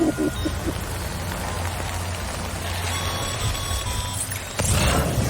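Steady rain hisses throughout the open-world landscape of Death Stranding, with a low rumble beneath and a louder swell near the end.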